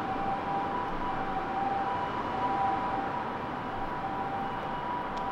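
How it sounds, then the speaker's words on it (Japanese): A distant siren from a passing ambulance beside a busy road near a small shrine park in Niigata, a steady wailing tone held for several seconds over constant traffic rumble. "救急車、"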